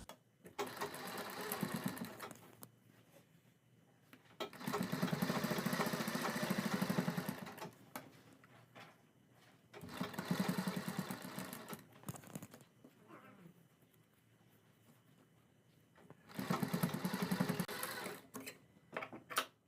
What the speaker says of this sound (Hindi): सिलाई लगाएंगे।